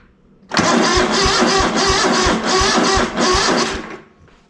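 A ZT200 mower engine catches and fires back up in cold weather, running loud and close with rapid, even pulsing for about three seconds before it dies away.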